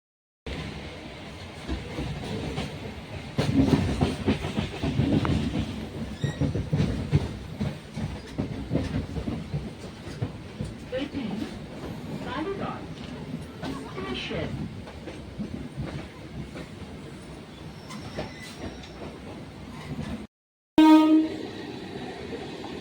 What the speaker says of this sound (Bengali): ট্রেনের মধ্যে বসে পড়েছি